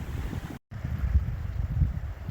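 Wind buffets the microphone in a low, gusty rumble on Mount Independence near a lake, briefly dropping out before the blustery roar returns, steady and close.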